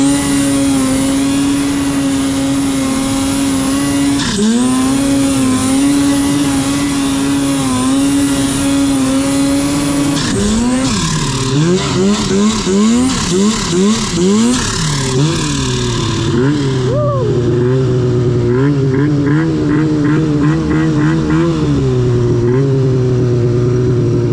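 Turbocharged mountain snowmobiles race from a standing start on snow, their loud engines climbing steadily in a high whine, then shifting into rapid revving surges and fading as they pull away.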